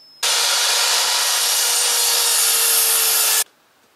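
A hand saw cuts through a length of wooden fencing top rail, giving a loud, steady rasping stroke that runs unbroken for about three seconds before stopping abruptly.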